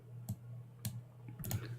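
A few loud, sharp clicks from a computer keyboard, sparse and irregular, about four strikes over a low steady hum, close and distinct with no talking.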